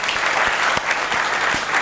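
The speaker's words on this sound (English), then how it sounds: "could we have a big round of applause for the speakers?" An audience gives a steady round of applause for the speakers at a talk on rethinking consumption, dense close clapping throughout the short stretch.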